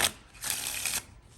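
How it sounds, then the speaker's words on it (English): A deck of playing cards is shuffled close up: a short burst of crisp paper riffling, then a longer flurry of rapid fluttering card noise about half a second long, followed by quiet. "a nice shuffle."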